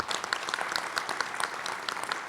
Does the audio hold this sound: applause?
yes